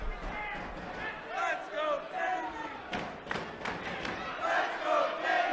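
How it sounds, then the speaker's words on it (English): A capacity wrestling crowd at the Manhattan Center during a Ring of Honor title match, with rolling chants and cheers surging and fading steadily. "More support from this capacity crowd at the Manhattan Center."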